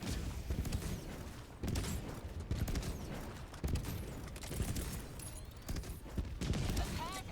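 Rapid bursts of automatic gunfire in Helldivers 2, a solo fight against Automaton enemies and Factory Strider convoys, running dense and loud across the whole stretch with short breaks between volleys.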